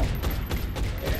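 A Gatling cannon fires in XCOM Long War, spitting out several rapid, heavy bursts in close succession over a low, rumbling bed of noise.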